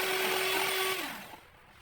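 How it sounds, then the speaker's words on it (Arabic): An electric mixer beats eggs and sugar for a simple, economical cake, a steady close motor whine that runs evenly, then winds down and stops partway through. "نضربوا هاد المكونات"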